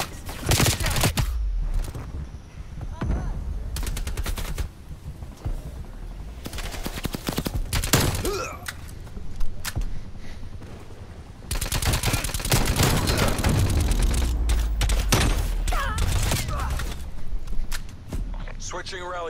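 Rapid video game gunfire rattles in repeated bursts and sustained volleys through most of the stretch during a VIP escort mission, loud and close, with footsteps and voices talking over the shooting.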